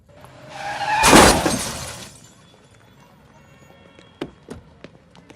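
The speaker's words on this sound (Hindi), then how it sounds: "गाड़ी ठोक दी मेरी" A car collides with another car in a loud burst of crunching, shattering impact that swells and then fades, followed by a few sharp clinks of falling debris in a quieter scene.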